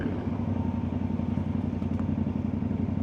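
A Yamaha Tenere 700 motorcycle engine idles and runs at a steady, fairly quiet throb with a faint mechanical clatter, heard alone without talk.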